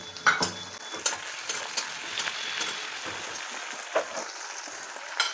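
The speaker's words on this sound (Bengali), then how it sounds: "এইবারে আমি এর মধ্যে দিয়ে দেব কেটে রাখা টমেটোর টুকরোগুলো এবং কয়েকটা কাঁচা লঙ্কা" Tomato pieces and green chillies go into onions frying in a pan for a Bangladeshi-style boal fish mustard curry, giving a steady close sizzle with scattered clicks and clinks of a utensil against the pan.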